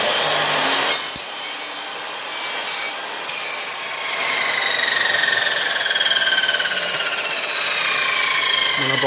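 A mitre saw cuts through a piece held in place, a loud continuous whine of the spinning blade with shifting tone as it bites into the material, lasting nearly the whole stretch.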